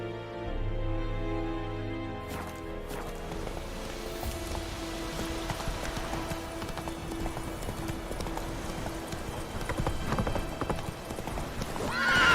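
Roach, a horse in The Witcher 3 video game, clip-clops along in a steady galloping rhythm, with a whinny and a rain-like background. Game music plays and notes ring throughout, with the hoofbeats fairly soft beneath them.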